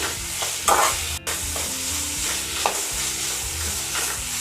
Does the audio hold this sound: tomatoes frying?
yes